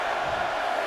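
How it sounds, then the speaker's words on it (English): Arena crowd in the WWE 2K23 wrestling video game roaring and chanting together during a Royal Rumble match, a dense steady wall of voices. "Listen to this crowd count the next one in."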